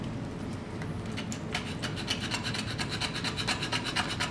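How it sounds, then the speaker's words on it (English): A knife held at a right angle shaving fine curls off resinous pine fatwood, giving rhythmic dry scraping strokes, close and clear, growing more regular as it goes. "Got my knife at a 90-degree angle on this fat wood, and I'm shaving off really fine shavings here."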